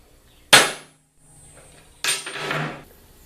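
Two sharp hammer strikes on a center punch against metal, about a second and a half apart, the second ringing a little longer, with no talk, while preparing holes for drilling on a heavy-duty mobile bench vise stand.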